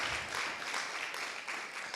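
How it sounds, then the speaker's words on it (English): Audience applause welcoming the keynote speaker at a Tanzania health summit forum, a steady dense wash of clapping throughout, moderately loud and fairly close, with no clear talk over it. "A big round of applause,"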